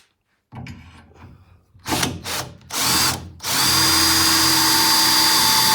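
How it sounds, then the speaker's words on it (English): A power drill bores a 5mm pilot hole through the bulkhead of a Land Rover Defender 90 Puma, starting in short bursts that settle into a loud, steady whine, close up with no talk. "So right, let's get this other one drilled out."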